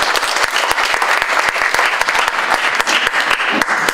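Loud, dense applause from a large crowd at a Korean political committee launch ceremony, with sharp camera shutter clicks and flash pops scattered through it.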